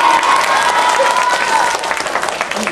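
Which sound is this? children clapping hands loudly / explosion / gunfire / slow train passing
children clapping hands loudly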